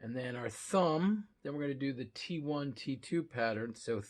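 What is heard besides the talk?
No everyday noise stands out behind the speech.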